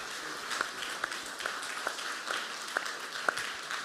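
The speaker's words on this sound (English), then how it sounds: "give a round of applause for our panelists" Conference audience giving a round of applause for the panelists at a digital summit, a thin spread of clapping with a few sharper claps standing out in a steady rhythm, moderately distant.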